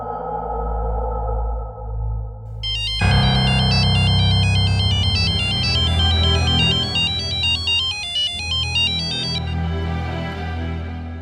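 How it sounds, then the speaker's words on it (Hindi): A phone ringtone for an incoming call, heard in a Hindi crime drama scene: a loud, repeating electronic melody starts after a low background hum and plays steadily for about six seconds before cutting off, with no talk. "तुम्हारा फोन है?"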